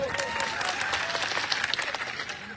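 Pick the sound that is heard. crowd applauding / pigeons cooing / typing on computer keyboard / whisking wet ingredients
crowd applauding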